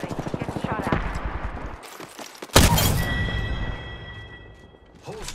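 Gunfire in the battle royale game Apex Legends: rapid automatic bursts at the start, a sharp loud shot midway, then a decaying tail and scattered softer shots, with in-game voice lines heard alongside.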